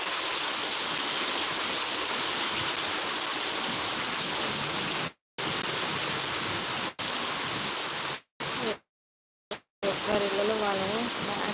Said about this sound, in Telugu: ఎంత వర్షం సౌండ్ వస్తుంది